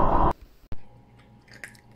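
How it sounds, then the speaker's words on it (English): A few close, crisp crunches of an animal chewing dry food, separated by quiet pauses. "If you hear crunching in the background"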